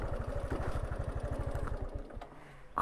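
A motorcycle engine idles close by on a rural road, its rapid, even putter of low thumps steady for most of the stretch before slowing and fading near the end, with no talking.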